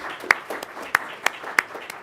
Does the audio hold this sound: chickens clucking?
no